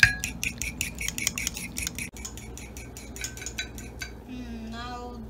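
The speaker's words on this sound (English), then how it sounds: "Then keep mixing until the pepper is goodly mixed." Quesadilla ingredients mixed in a bowl with pepper, a rapid rhythmic clinking of a utensil against the bowl that slows and stops, followed by a faint voice.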